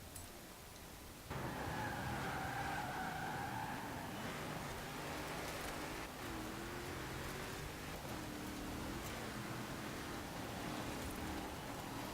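Car drifting with tyres skidding in the racing game Forza Horizon 4 on Fortune Island, a steady engine drone broken by wavering tyre squeals that rise and fall over several seconds, with no talk.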